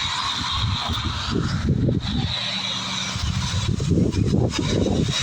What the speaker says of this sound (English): Got cars going by, so you'll see how the microphone does with that